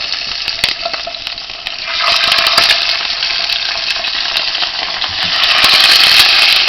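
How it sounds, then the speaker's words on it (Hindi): One kilogram of chicken pieces frying and browning lightly in hot oil, giving a loud, steady sizzle that swells and crackles as the pieces are stirred in the pan. "ये 1 kg चिकन है, तो मैं अभी इसको लाइट ब्राउन कर रही हूँ"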